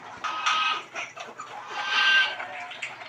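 Peruvidai fighting rooster clucking and calling in a short run of close, moderately loud vocal bursts, with farmyard background and no talk.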